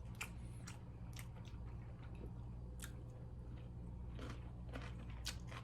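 Someone chews a homemade rolled omelette made with ten eggs, giving soft, wet squishing bites repeated close to the mic over a steady low hum, with no talking.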